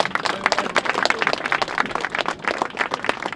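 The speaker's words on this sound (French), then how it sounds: "On peut l'applaudir, ouais." Lively applause from the crowd at a political campaign rally for municipal elections, close and energetic, with dense irregular clapping bursts sustained throughout.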